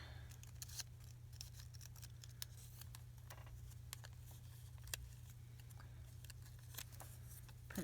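Scissors snip through washi tape in a series of short, crisp cuts spread across a quiet crafting table, each snap close and distinct above a steady low hum.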